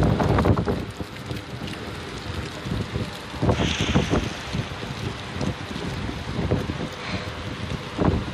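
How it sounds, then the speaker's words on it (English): Strong storm wind roars and buffets the microphone in gusts, with loud broadband rushing and repeated heavy low thumps of wind noise, steady throughout with no voices. "This is like wind speeds of a tornado."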